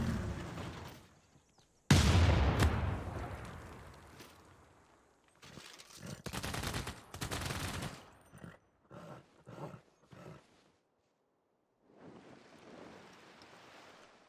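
Bombards and troops exchange fire in a Civilization VI battle, with a loud blast followed by a string of sharp bursts and a scatter of smaller impacts, separated by short gaps of quiet.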